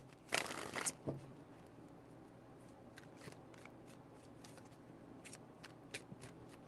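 Tarot cards shuffled by hand in a quick, papery riffling burst near the start, then a quiet stretch with only a few faint taps and rustles.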